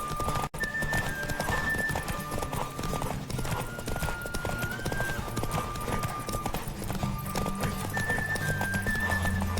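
A horse gallops with steady rapid hoofbeats and an occasional whinny in the video game The Witcher 3, heard under continuous game music and ambience.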